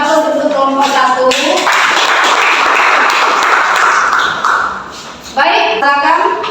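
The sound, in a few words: applause for group 1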